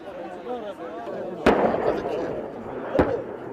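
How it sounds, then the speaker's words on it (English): Small arms and heavy weapons fire, including mortar rounds, in a combat zone: two sharp, loud blasts about a second and a half apart stand out against a constant rumbling, crackling background. "The noise of small arms and heavy weapons cuts through the sky."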